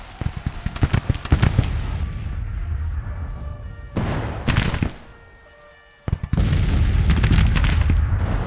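Musket fire from a Civil War battle video game: scattered, sparse shots and rumbling bursts crackle at a middle distance, then a near-silent lull before the firing resumes more densely.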